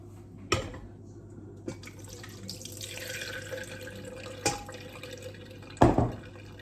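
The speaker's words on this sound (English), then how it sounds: "I'm going to have to tip the buttermilk into a jug." Buttermilk is tipped from a bowl into a jug in a kitchen, a faint, steady liquid trickle with a few sharp knocks of the containers, close by and with no talk.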